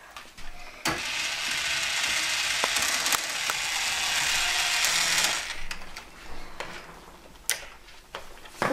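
A children's Bosch Klein toy cordless screwdriver whirs with a close, continuous ratcheting buzz for about four seconds, then stops, leaving scattered clicks and taps from the plastic toy being handled.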